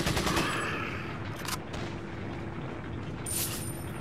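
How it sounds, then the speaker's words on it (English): A short burst of machine pistol fire in Resident Evil 4 opens the clip, followed by a lower rumble and a few scattered sharp reports at moderate loudness. "Trusty machine pistol for the freaking win"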